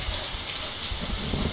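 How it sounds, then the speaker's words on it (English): Rain hitting surfaces in the video game Pulse, a dense, continuous patter of many drops, close and fairly loud, with no voice over it. "when the rain hits on the surface and makes a noise"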